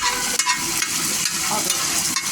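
Onions sautéed and stirred in a pan give a steady, loud hiss of frying with a few scraping stirs over about two seconds, close by and with no talking.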